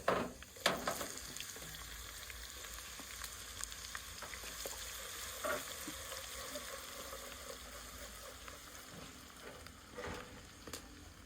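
Onions frying in a pan in a family kitchen, a steady bright sizzle and crackle with a few louder spits and stirring clinks near the start, continuous and close with no talking.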